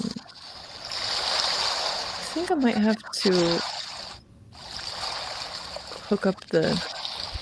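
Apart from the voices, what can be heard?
wave sound sample of water waves played from a speaker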